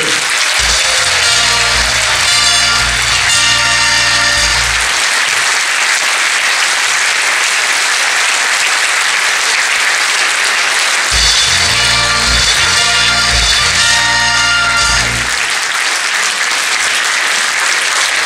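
Crowd applause at a carnival revue evening, dense loud clapping sustained throughout, with rhythmic band music with drums and brass swelling in and out twice beneath it.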